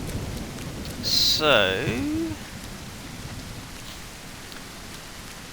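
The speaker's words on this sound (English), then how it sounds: "I know it's pouring rain and all, but" Pouring rain in the survival video game No One Survived makes a steady, wide hiss throughout, while a voice says a brief word over it early on.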